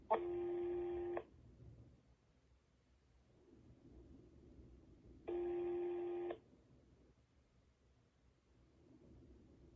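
A telephone line rings while a call connects to a counselling service: two long electronic rings about four seconds apart, each roughly a second long, with quiet line hiss between them.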